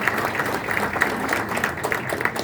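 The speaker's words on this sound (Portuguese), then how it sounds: "Vamos aplaudir o Joaquim." Applause from an audience at a union rally honoring a labor federation representative, a steady dense patter of clapping filling the space without pause.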